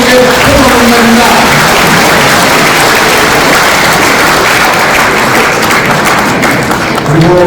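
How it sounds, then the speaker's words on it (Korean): An assembly audience at a constitutional association election applauds, a loud, dense, sustained wash of many hands clapping that runs throughout, with faint speech beneath. "여러분들이 위로와 격려와 감사의 박수를 보내주신 것을 여러분께 고맙습니다"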